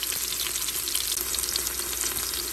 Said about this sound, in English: now I'm just going to turn these onions, fry them till they're translucent